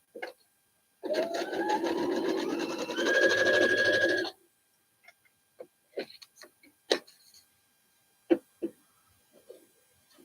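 A sewing machine runs a short, steady burst of about three seconds while stitching a foundation paper pieced quilt block for a boot pattern, then falls silent apart from scattered light clicks and taps of handling.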